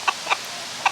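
Chickens clucking in a backyard garden, three short bright clucks spaced unevenly over a second, fairly close and moderately loud against a quiet background.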